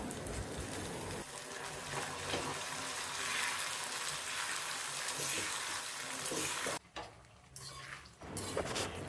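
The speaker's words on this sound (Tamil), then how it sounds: "இப்போ தக்காளியும் சேர்த்து வதக்கணும்" Onion, garlic and tomato sauté for a fish curry, giving a continuous hissing sizzle with occasional stirring clatter, steady and close, with a short pause near the end.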